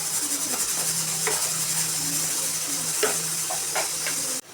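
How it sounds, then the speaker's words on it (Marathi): Chopped tomato frying with ginger-garlic paste for mutton bhuna gosht, a steady close hiss and sizzle with occasional light stirring scrapes and clinks against the pan, no voices. "आता यामध्ये बारीक चिरलेला टोमॅटो घालून छान भाजून घेऊया"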